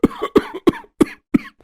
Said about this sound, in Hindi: लग रहा है मेरी खांसी फिर से शुरू हो गई है